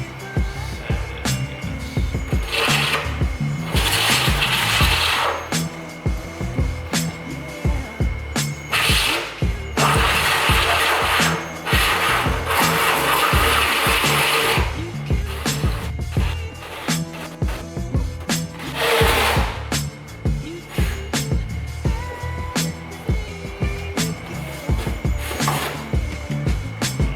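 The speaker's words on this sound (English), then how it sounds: "this is actually a 2 1/8 inch hole saw" A 2 1/8 inch hole saw cuts through a fiberglass car hood in several loud grinding bursts separated by pauses, the drill whining and rattling between cuts.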